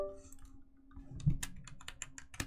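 Quick clicky keystrokes on a computer keyboard, a run of sharp taps close by over a low background hum.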